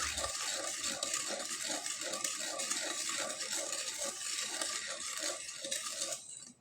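Sugar stirred into a pot of water for coconut pitha, a spoon scraping and clinking in a steady, continuous rhythm at close range, with no talking.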